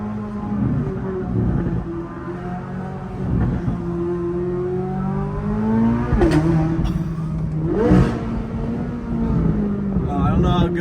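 A motorcycle engine at a road rally revs hard and close, pitch climbing and dropping through several throttle blips and a shift, loud and continuous.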